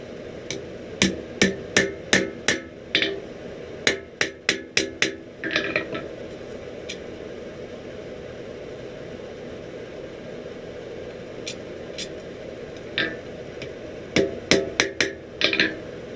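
A blacksmith hammers forged tongs on an anvil, with bursts of sharp, ringing metallic strikes in quick runs separated by quieter pauses with light metal handling, close and clear with no speech.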